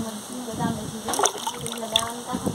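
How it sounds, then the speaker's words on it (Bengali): Fresh amla (Indian gooseberries) being washed by hand in water, with repeated close splashes and sloshing in short bursts against a quiet background. "ভালো করে ধুতে হবে"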